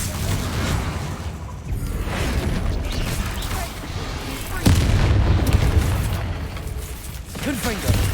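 Confringo spell explosions in a Harry Potter-style video game: repeated muffled booms and heavy impacts, one especially strong burst midway, over continuous mechanical rumble and game noise.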